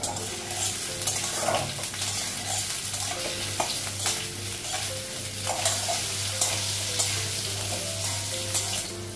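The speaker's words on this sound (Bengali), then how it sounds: "আলুটা একটু ভেজে নেব।" Potatoes fry in hot oil in a wok, giving a steady, close sizzle with scraping stirs throughout and no talking.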